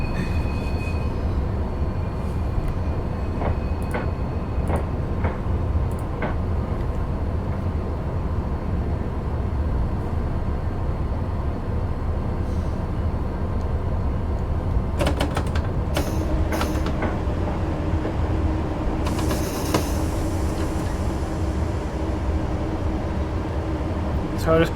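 A Class 370 APT train in Train Sim 2021 rolls slowly toward Polmadie with a steady low rumble, occasional clicks and brief wheel squeals and hisses near the end.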